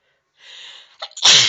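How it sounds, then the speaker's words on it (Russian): A girl sneezes once after tickling her nose with a stick: a soft quiet intake of breath, a short catch, then a sharp loud sneeze burst close to the listener. "Чихнула."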